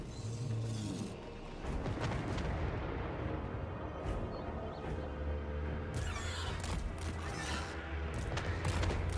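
Skull Cannon artillery fires in a rainy Total War Warhammer 3 battle, heavy booms and crackling gunfire layered over a dense, continuous battle roar, with sharper blasts punching through near the middle.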